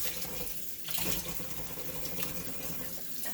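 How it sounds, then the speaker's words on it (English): Hands are rinsed under a running kitchen tap between meat-storage tasks: a steady, close splashing stream into the sink that continues throughout, with slight surges in the flow and no talk. "Get my hands washed again."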